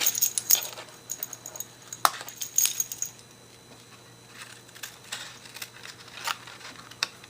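Material is trimmed to size for a magnetic peek-a-boo monster craft, giving close, quiet, irregular snips and rustles, with a few sharper clicks spread across the stretch and no talking.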